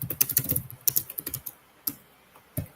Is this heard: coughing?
no